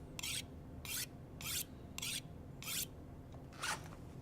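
A blade sharpened on a whetstone, with six evenly spaced rasping strokes, each about a third of a second, close and fairly quiet against a low background hum.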